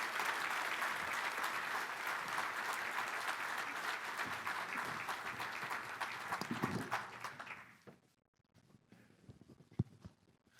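Convention audience in Fargo, North Dakota, cheering the Peterson Farm Brothers, dense sustained clapping from a large crowd that swells, then tapers and dies out, leaving a quiet room with a few stray sounds.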